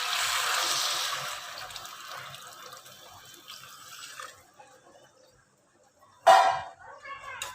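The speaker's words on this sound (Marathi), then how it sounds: "यामध्ये आता आपण 4 वाटी गरम पाणी घालू." Hot water poured into a pot of rice sautéed with dry fruits for sweet rice, a steady close splashing that fades out over several seconds, followed by a brief metallic clink.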